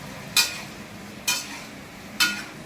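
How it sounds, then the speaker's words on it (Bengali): Onions and capsicum frying in oil in a home kitchen, with three separate short bursts of sizzling or stirring, each one fading quickly, over a quiet background. "পেঁয়াজগুলো ভেজে নেব।"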